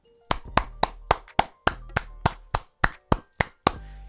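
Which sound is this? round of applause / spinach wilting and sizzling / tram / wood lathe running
round of applause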